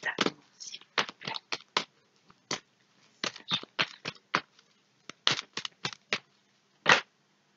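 Playing cards shuffled and drawn during a French tarot-style card reading, a rapid series of short crisp riffles and snaps, close and fairly quiet, with pauses between bursts.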